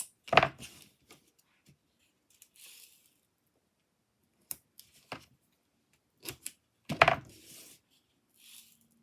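Scissors snip through paper and 2mm foam tape while an A5 card is being made, giving a few quiet, scattered cuts separated by near-silence, with two firmer snips standing out.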